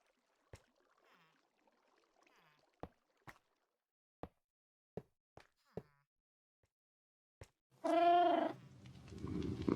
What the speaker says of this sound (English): Thank you for the meow.